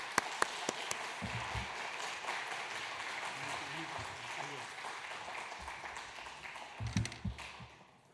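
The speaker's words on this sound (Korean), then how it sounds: "우리 선교사님 나오실 때 오랜만에 오셨는데 큰 박수로 환영 부탁합니다" A church congregation at a Wednesday prayer meeting applauds to welcome a returning missionary: steady, dense clapping fills the room for the whole stretch, with a few voices briefly rising above it.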